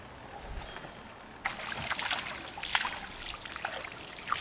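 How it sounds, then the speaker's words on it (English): Water splashed in a river for a dog, starting quiet and then turning into a run of irregular splashes and trickling sloshes, fairly close and moderately loud. "Okay, let's splash you, as Daddy said."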